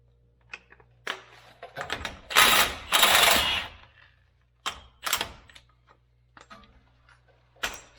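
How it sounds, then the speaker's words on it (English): An impact wrench breaks loose a 1 5/16 inch axle nut where the CV axle meets the wheel bearing on a 2011-14 GMC 2500HD, firing several loud, close rattling bursts, the longest lasting about a second, with quiet gaps between. "there is a big nut right here, right where the CV axle connects to the wheel bearing, and that I am going to take off with my impact"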